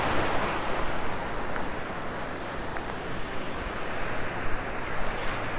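Ocean surf rolling onto a Sanibel beach, a steady broad wash of breaking waves with some wind noise, close and continuous throughout.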